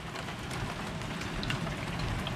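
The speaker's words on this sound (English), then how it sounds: "Looks like we're back down to rain" Steady rain after a hail storm, falling outdoors as an even, continuous patter of drops on surfaces, close by and fairly loud throughout with no talk.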